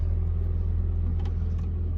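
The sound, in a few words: Nissan 240sx S13 car engine running after starting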